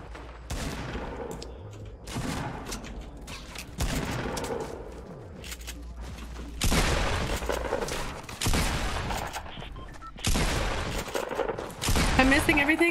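Gunfire from a Deagle pistol and a shotgun in a Fortnite Battle Royale match comes in repeated loud bursts with busy game noise in between, and voices can be heard faintly.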